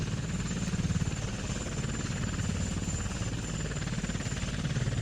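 Autogyro rotor in Kerbal Space Program, a steady game-engine buzz with a fast rhythmic chop and faint high whine, even and moderately quiet throughout with no talk.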